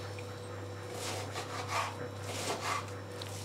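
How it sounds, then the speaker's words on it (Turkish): A knife cuts partly frozen chicken into cubes, giving soft rubbing, scraping strokes that come and go in an uneven rhythm, close and fairly quiet over a steady low hum. "öncelikle küp küp tavuklarımızı doğrayacağız"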